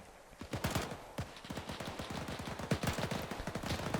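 Sustained gunfire in the video game Arma 3 during a WWII battle, a dense rattle of rifle and machine-gun shots at moderate distance, irregular bursts overlapping throughout with no talk.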